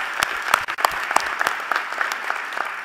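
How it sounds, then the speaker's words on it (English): An audience at a university presidential installation ceremony applauds, a dense, loud run of clapping that carries steadily across the whole stretch, with individual claps standing out near the front. "Yes, you can applaud that."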